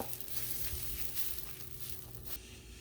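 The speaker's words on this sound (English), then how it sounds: "It's already nice and thick as it goes into the skillet here, but it's going to get stretchy as we stir it around and heat it up just a little bit." Thick cheese filling for oil-free veggie enchiladas sizzles steadily in a skillet as it is stirred, a close, continuous crackling hiss with faint scraping, no voices.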